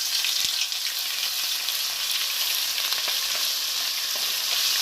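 Maize and spices fry in oil in a pot, giving a loud, steady, close-up sizzle with fine crackling and no voices.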